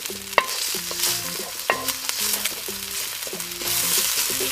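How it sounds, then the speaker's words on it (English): Minced garlic and ginger sizzle in a hot pan while being stirred and sautéed, with steady frying hiss and clinking scrapes of a utensil against the pan, close and continuous. "and the minced garlic, and saute till it's aromatic."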